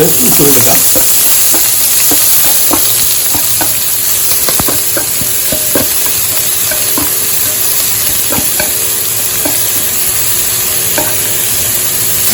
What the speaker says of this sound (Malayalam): നന്നായി ബ്രൗൺ കളറുന്നത് വരെ വഴറ്റിയെടുക്കണം